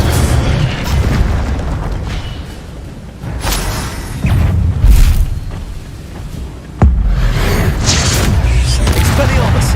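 Fiery spell blasts from the Hogwarts Legacy video game, several loud booming bursts with whooshes over a dense battle soundscape, one sharp hit near the end, with voices calling out amid the action.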